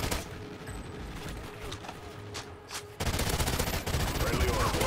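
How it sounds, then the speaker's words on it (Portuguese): Assault rifle gunfire in a shooter game: a steady crackle of distant shots gives way about halfway to a louder, dense burst of rapid close fire. "Bora lá, assault rifle."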